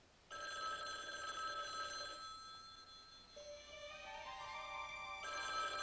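An old-style telephone rings indoors, a steady bright electronic bell trilling in bursts with short pauses between, clear and moderately loud over a quiet room, with no talking.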